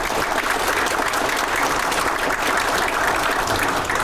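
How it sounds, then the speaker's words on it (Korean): Audience applause at an AI policy debate, a steady, dense clapping from a full room that holds evenly loud for the whole stretch with no voices over it. "최민희 우리 위원장님 박수 한번 해주십시오."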